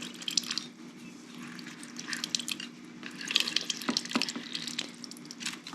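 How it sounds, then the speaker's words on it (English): Juice from half a lemon being squeezed for homemade hummus, quiet irregular drips and wet trickles falling into a bowl, with faint scattered splashes and no talk. "Starting out with the juice of half a lemon"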